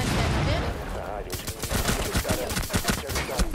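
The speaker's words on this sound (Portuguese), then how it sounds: "Dei 83 tiros no cara no chão" Rapid automatic gunfire in the video game Rainbow Six Siege, with dense bursts of close, loud shots following one another in quick succession.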